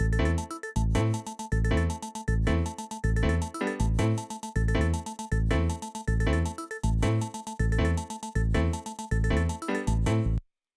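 A dense arrangement where a busy synth lead, deep bass line and keys play together in a steady repeating groove, loud and full, cutting to silence at the very end.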